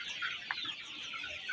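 Chickens clucking softly in a large poultry farm house, a few brief scattered clucks over a faint steady background hum.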